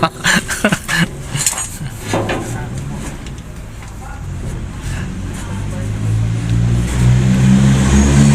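A car engine revs in a workshop setting, rising to a loud, sustained low rumble toward the end, with earlier clinks of metal and people talking throughout.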